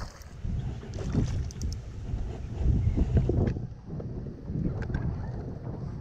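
Wind gusting outdoors on open water while bass fishing from a boat, a steady broadband rush and buffeting on the microphone that swells and eases throughout, with faint water and boat noise underneath.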